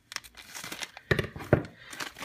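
A LEGO Simpsons minifigure foil pack is crinkled and torn open up close, with several sharp rips and rustling crackles in short uneven bursts.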